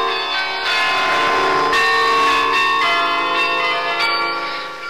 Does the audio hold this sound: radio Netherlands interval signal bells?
yes